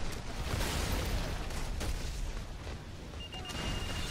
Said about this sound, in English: I just tossed a fucking grenade at him